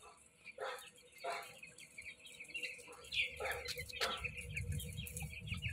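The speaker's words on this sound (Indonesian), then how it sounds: "Ini ayam umur 11 hari." Eleven-day-old chicks in a simple closed-house coop chirp in short, repeated high peeps, with a low rumble of machinery or a fan running underneath and rising toward the end.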